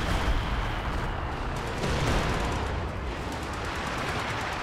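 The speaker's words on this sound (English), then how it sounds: "Katyusha barrage towards the middle" A Katyusha rocket barrage in Company of Heroes rumbles as a dense, continuous roar of launches and distant blasts, holding steady and loud throughout with no voices over it.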